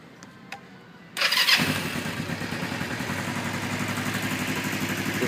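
A 2009 Kawasaki Vulcan 500 motorcycle's engine catches with a quick rev, then settles into a steady, close, even idle that carries on alone.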